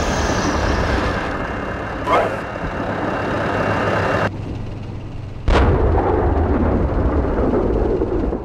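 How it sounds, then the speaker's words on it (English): Gunfire and artillery in the tank combat game Steel Beasts Pro, a steady engine rumble broken by a couple of sharp booming shots, loud and close, with radio chatter in between. "What are you shooting at"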